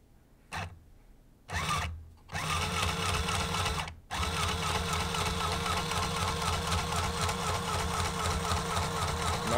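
A sewing machine set on slow stitches a tripod carrying bag, starting with a few short bursts and then settling into a steady, close mechanical whir that runs on continuously.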